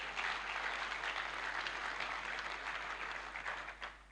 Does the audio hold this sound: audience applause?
yes